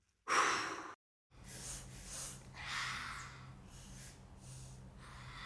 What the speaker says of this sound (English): Take 2 little mouse breaths in, then out deeply.